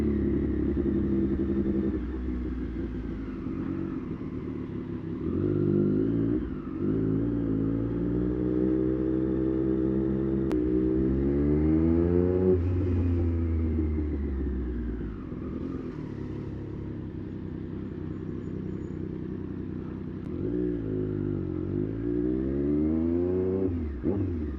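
A Triumph Street Triple motorcycle engine revs up and down repeatedly, loud and close, its pitch climbing and falling through several sweeps without any talk.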